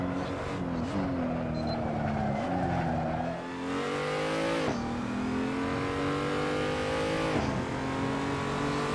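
A BMW M235i in Assetto Corsa lapping the Nordschleife, its engine screaming at high revs with sharp drops at each gear change, loud and continuous with some tire squeal.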